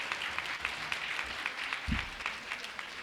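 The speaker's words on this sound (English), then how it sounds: "So give another round of applause for the screenplay winners" A ceremony audience gives a round of applause for screenplay winners at a 2025 awards event, continuous crowd clapping at moderate distance with a brief low thump partway through.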